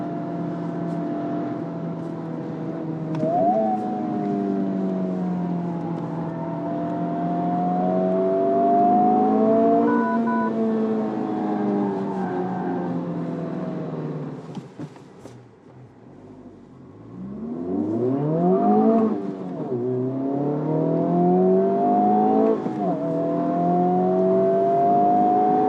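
A Honda Civic Type R, front-wheel drive with 315 horsepower, accelerates hard on a race track, its engine note climbing steadily through long pulls, briefly dropping at a shift and then rising again, loud and close throughout.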